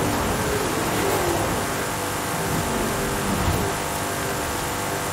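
Hot Wheels Bone Shaker hot rod racing in Forza Horizon 5, a sustained loud engine drone with a steady revving pitch and road noise, continuous for several seconds with no voices.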